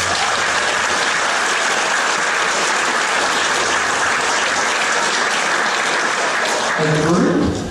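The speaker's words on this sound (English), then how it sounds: "Let's give them a round of applause" Audience applause for graduating Grade 6 students at Coburg Primary's 2022 graduation, a loud, sustained roar of clapping filling the room, with a voice starting to speak near the end.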